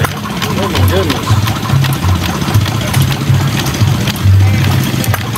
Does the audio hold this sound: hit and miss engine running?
yes